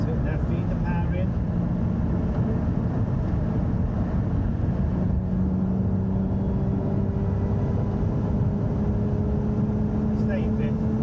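A Lotus Emira accelerates around Thruxton race circuit, its engine a steady in-cabin drone that rises slowly in pitch as the car pulls in fifth gear.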